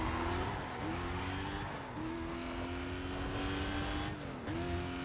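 A Mazda RX-8 in Need for Speed Most Wanted revs loudly and steadily, its engine note rising and dropping with several gear shifts, and tires briefly squealing under a constant drone.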